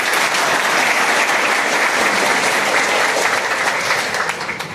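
Audience applause welcoming a BJP MLA at a felicitation ceremony by a goldsmith community and jewellers' association, steady dense clapping from a crowd throughout, fading slightly at the end.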